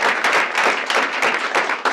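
A small group at a stakeholder meeting gives a brief round of applause: close, uneven hand claps that keep going steadily for a couple of seconds.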